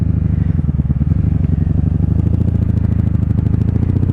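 A 1997 Honda Magna 750 VF750C motorcycle with 43,821 miles, rebuilt after a crash, running in a steady loud pulsing rumble from close by as it is ridden, with rising revs toward the end.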